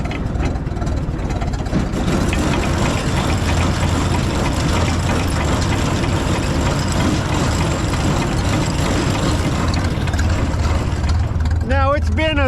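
A tractor engine idles loud and close with the PTO engaged and a manure spreader hooked up, giving a steady, even diesel rumble with no change in rhythm throughout.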